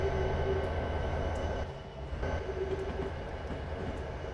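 A train in Train Simulator 2015 runs along the line near Horseshoe Curve with a steady, loud rumble and hum. The sound eases slightly midway and carries on without talk.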